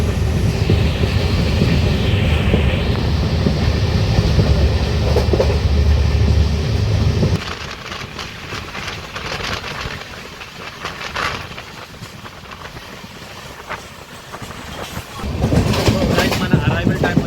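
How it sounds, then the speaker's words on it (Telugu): A Lingampally Intercity Express passenger train runs at speed from Vijayawada toward Secunderabad, its steady loud rumble and rail clatter continuous; the noise drops to a quieter rolling hum midway, then swells again near the end. "మన ట్రైన్ ఒక స్పీడ్ చూడండి భయ్య"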